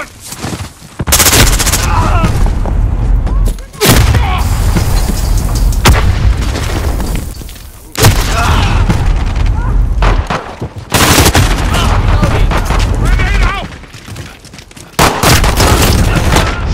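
Loud, sustained bursts of automatic gunfire and booming blasts from the Call of Duty: Modern Warfare video game, coming in long dense volleys broken by short lulls.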